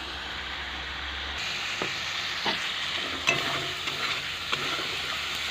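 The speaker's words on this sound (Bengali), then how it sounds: "আলু দিয়ে আদা জিরে দিয়ে কষানো হচ্ছে" Potatoes with ginger and cumin sauté in a pan, making a soft, continuous sizzle broken by scattered scrapes and knocks from stirring, all fairly quiet and close.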